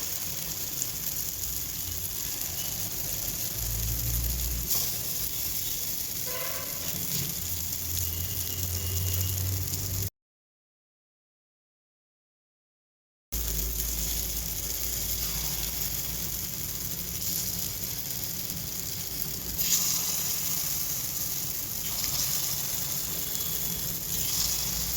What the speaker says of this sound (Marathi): आता इथे अप्पे पॅन गरम झालेला आहे. इथे हे अप्पे टाकून घेणार.